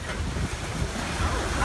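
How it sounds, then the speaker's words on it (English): Rushing, moving water heard from a safari ride vehicle at a theme park, a continuous broad wash with low rumble and wind buffeting the microphone, no voices over it. "There's a lot of moving water over here."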